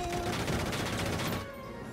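Rapid gunfire from a video game crackles in a dense, continuous burst, then drops off abruptly near the end of the short stretch. No talking.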